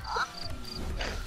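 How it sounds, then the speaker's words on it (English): A cricket chirps faintly in the background, a few short high, thin chirps repeating in a brief stretch beneath low room noise. "Is there a cricket noise in the background?"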